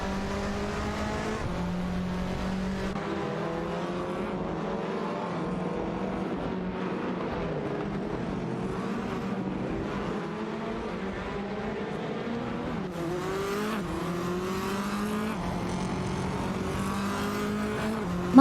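Race car engines of a Seat Leon and a Fiat Tipo Competizione in a racing video game, a steady high-revving roar with rising and falling pitch as the cars shift gears and battle side by side, continuous throughout with no talk.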